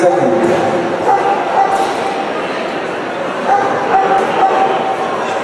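Dogs bark and yip during attack training at an international dog show, sharp barks in a couple of clusters under someone speaking continuously.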